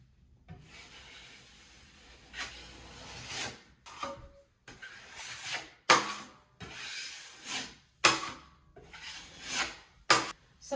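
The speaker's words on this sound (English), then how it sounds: "you wipe to remove all the excess mud from underneath so that your tape will be nice and" A drywall knife wipes excess joint compound from beneath paper tape on a wall patch, giving a series of close, short rubbing scrapes, several separated by brief pauses, with no talking.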